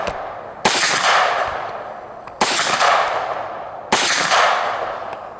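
A 9 mm CZ Scorpion fires three loud shots at a steel plate outdoors, each one a sharp crack with a ringing tail, spaced about one and a half seconds apart.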